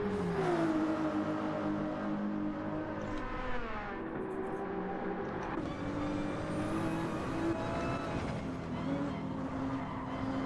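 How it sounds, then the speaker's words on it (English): Race cars in a racing video game, a Ferrari among them, lap the Nurburgring Nordschleife with a continuous engine whine that rises and falls in pitch through gear changes and corners. "How did he manage to get that Ferrari sideways coming out of the carousel and still close up on Potkind?"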